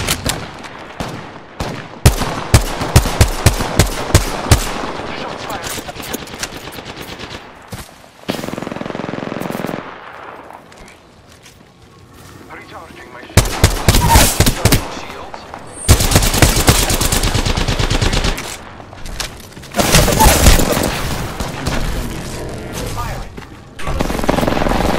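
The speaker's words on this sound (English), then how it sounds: "I am taking fire, friends." Gunfire in Apex Legends crackles in loud, rapid bursts of automatic fire and single shots, close and punchy, broken by brief quieter gaps, with a voice talking at points over the shooting.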